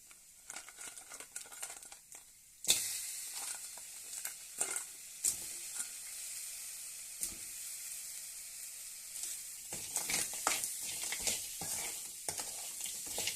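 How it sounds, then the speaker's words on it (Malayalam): Cleaned crab meets a hot pan of spices, including turmeric and pepper powder, for a Kerala-style curry. After a quiet start, sharp sizzling bursts out, then frying hiss continues under repeated stirring scrapes and crinkly clatter, close and fairly soft. "കഴുകി വൃത്തിയാക്കി വെച്ച ഞണ്ട് ഇട്ട് കൊടുക്കുക."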